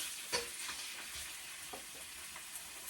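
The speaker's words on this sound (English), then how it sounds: "So you can probably hear it sizzle a little in the background." Cube steaks sizzle quietly in a hot frying pan, a soft steady crackle with occasional small pops, heard alone at low volume.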